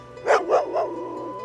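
A dog barks three times in quick succession, loud and close, each bark a bit softer than the last, with no other sounds around it.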